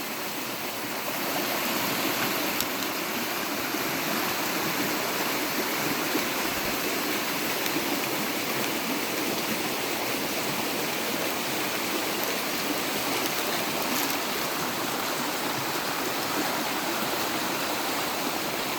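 A forest stream runs along the edge of a rural plot, making a steady, continuous rush of flowing water that stays even and close for the whole stretch, with no voices.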